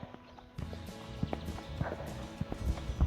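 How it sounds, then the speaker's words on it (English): Horses walk on a 2-acre horse property in Middleton, Idaho, their hooves clip-clopping in an uneven, close rhythm with some outdoor rustle. "They have horses."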